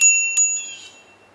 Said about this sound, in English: It has a really cute bell